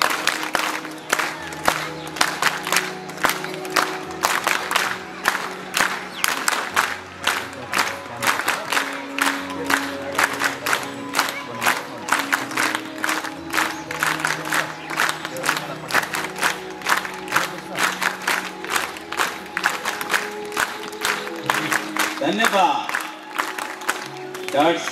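A group claps in rhythm through a yoga exercise session, with sharp, regular hand claps repeating steadily over a counting voice and other speech.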